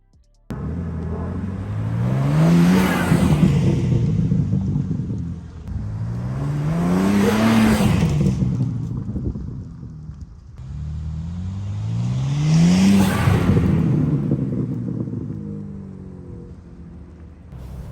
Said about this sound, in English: So you just heard some clips of the intake after it was installed, and it sounds pretty aggressive, actually.